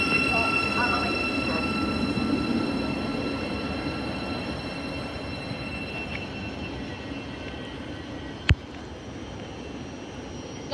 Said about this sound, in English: Train in platform 1, 1506, King's Cross service, this train calling at Harlington.